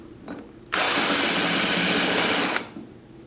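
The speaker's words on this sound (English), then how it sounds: "deburr the ends of the bar with a sharpening cone or whatever tool you have available" Cut ends of 120 mm rise e-bike handlebars are deburred with a sharpening cone, giving a loud, steady, close whirring that starts abruptly, runs about two seconds and cuts off sharply, surrounded by quiet.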